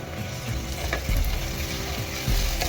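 Onion frying in a pan for a masala dosa potato filling, a close, dense sizzle with scraping stirs and a couple of louder clatters from a utensil against the pan.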